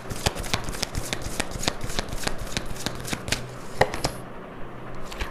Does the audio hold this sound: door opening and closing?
no